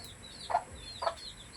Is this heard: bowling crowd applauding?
no